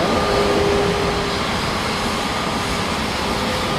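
An A320neo taxiing in Microsoft Flight Simulator 2024, its jet engines giving a steady broadband roar with a faint tonal whine, loud and continuous with no talk.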